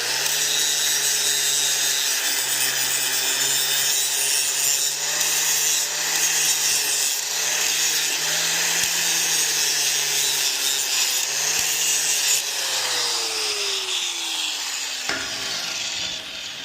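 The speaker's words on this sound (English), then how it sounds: "grind that out, make sure I knock all the slag off" An angle grinder clears slag from a steel weld while fabricating a wheel ditch filler part, giving a steady, loud abrasive hiss with a whining motor tone that shifts in pitch near the end.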